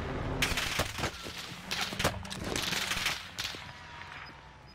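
Gunfire in Call of Duty Warzone aimed at a shield, heard as a quick run of sharp shots and bursts that recur over a few seconds, fairly close, with some faint movement between them.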